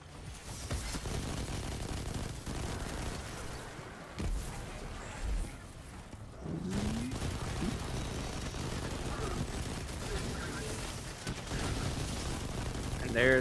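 Auto rifle gunfire in the video game Destiny 2 rattles in rapid, dense bursts, mixed with loud game effects and explosions, nearly continuous across the whole stretch.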